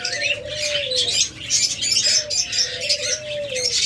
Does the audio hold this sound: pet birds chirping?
yes